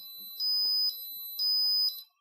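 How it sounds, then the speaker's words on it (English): A homemade sensor sounds a fridge-open alarm: two long, bright electronic beeps, each about half a second, repeating at a steady interval, close and clear with no talk. "there's an alarm sounding to tell, okay, the fridge is open, please close it"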